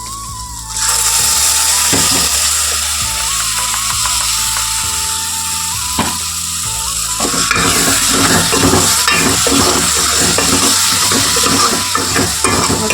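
Masala with turmeric and tomato puree fries loudly in a pan, a dense continuous sizzle under a droning hum, with rapid scraping stirring strokes growing busier toward the end; no voices.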